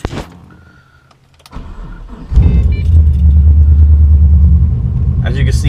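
A 2006 Pontiac GTO engine cranks and fires at about two seconds, settling into a loud, deep, steady rumble close by, preceded by faint clicks and key sounds.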